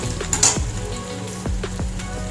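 Lightly browned onions sizzling in oil as garlic paste is added, a close, moderately loud hiss broken by a few sharp spattering pops and soft stirring knocks, with no talking.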